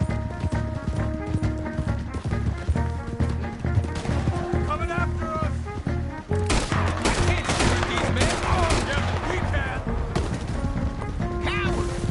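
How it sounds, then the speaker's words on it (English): Gunfire in Red Dead Redemption 2 rings out in repeated sharp shots and volleys throughout a tense shootout, loud and close, layered over dramatic music with voices calling out. "Open fire on him!"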